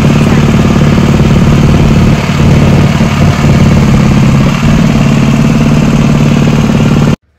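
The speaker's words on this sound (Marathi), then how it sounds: "त्यानंतर नेहाने आणि मी छान गाडीवरती राईड केली." A motorbike engine runs steadily throughout a ride on a family trip to Ganpatipule, a loud continuous low drone with a slight idling rumble, cutting off abruptly at the end.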